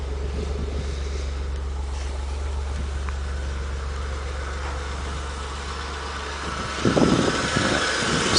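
A ute engine idles steadily while warming up before an oil change, a constant low hum close by with a brief clunk and a rise in level near the end.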